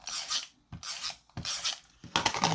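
A tape runner drawn across paper while making a card box, heard as four close, raspy strokes separated by short pauses, each a dry scraping rub with no talking.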